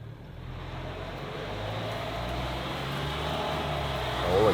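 A 2023 Toyota HiLux SR5 engine holds a steady full-throttle drone off-road as its wheels spin, a broad continuous roar that swells slightly at the end.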